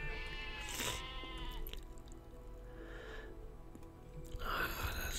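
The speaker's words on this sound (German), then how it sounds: "Die Schafe kommen so langsam auch wieder." Sheep bleat in the settlement-building game Settlement Survival, several wavering calls overlapping near the start and again at the end against a low steady ambient bed.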